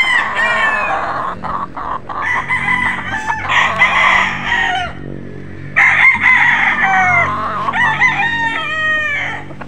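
A Golden Boy Sweater gamefowl rooster crows loudly and close by, giving two long drawn-out crows separated by a short pause, with no talking.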